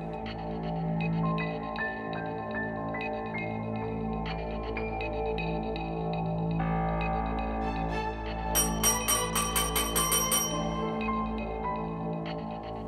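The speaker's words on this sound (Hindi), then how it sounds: "ये खतरे की घंटी है।" A steady hum runs throughout, joined later by a rapid metallic bell ringing loudly in a fast clattering burst before fading back.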